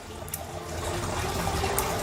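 Water pours over peanut seeds to soak them for planting, a continuous close splashing rush that swells slightly louder partway through, with no talk.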